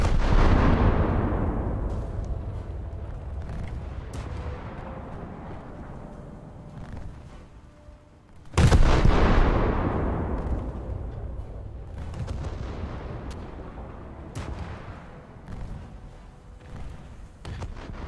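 Ship guns firing at a destroyer in a naval battle video game: two heavy booming salvos several seconds apart, each with a long rumbling decay, loud and close with no talk.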